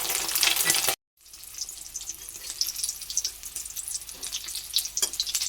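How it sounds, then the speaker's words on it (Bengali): Egg-battered cabbage pieces fry in hot oil like pakoras, giving a steady crackling sizzle that cuts out briefly near the start and then returns, fizzing and bubbling close by with no voices. "এইগুলোকে আমি সুন্দর করে পকোড়ার মতো ভেজে নিচ্ছি"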